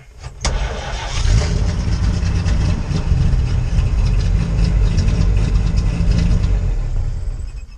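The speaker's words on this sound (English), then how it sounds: "I'll show you how easy this truck is to start up" An old truck's engine cranks and catches with the choke on, then settles into a loud, steady, rough idle that runs on alone without letup.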